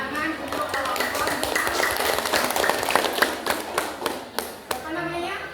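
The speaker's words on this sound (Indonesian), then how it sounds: "Kita beri tepuk tangan untuk kelompok" A classroom group of students claps for a presenting student group, with brisk, dense hand claps near and loud and children's voices mixed in.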